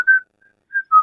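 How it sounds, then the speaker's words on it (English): A person whistles close into a microphone: a few short, clear pitched notes with gaps between them, loud and isolated, with a brief faint note in the middle. "Whistling's kind of hard into the microphone."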